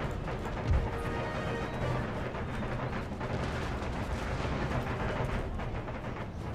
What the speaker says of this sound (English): Canister shot still going in.